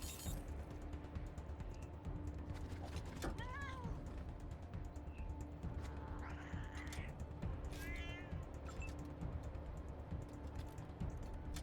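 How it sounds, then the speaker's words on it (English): Cat meowing in the video game Wasteland 3, a few short cries rising over dense, steady game-combat ambience that fills the whole stretch. "Oh, it's beating up the cat!"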